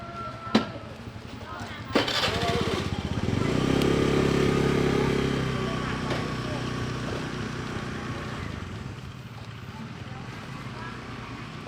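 A motorbike engine runs close by, its drone swelling loudly for a couple of seconds before easing back, with wind noise and people chatting over it.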